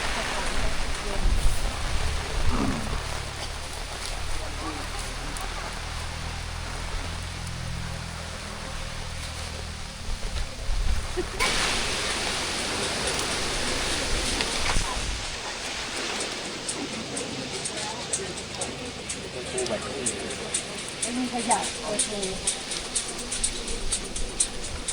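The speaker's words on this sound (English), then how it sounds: "So I'm standing out here in the rain." Rain and gusting wind at a remote mountain campsite in Mae Wong National Park, a continuous broadband hiss that swells and shifts throughout, moderately loud and steady.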